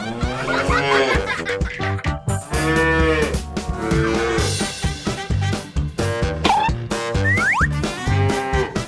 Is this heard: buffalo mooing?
yes